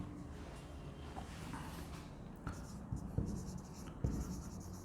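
Pen strokes scratch steadily on paper while an accounting equation is written out by hand, with a few sharper taps and scrapes; close, fairly quiet, and no talk.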